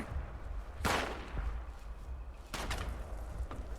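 Gunshots in the video game Fallout 76, two sharp broadband bursts about two seconds apart over a steady low rumble of game ambience, fairly loud and close.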